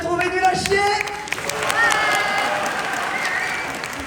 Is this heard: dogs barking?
no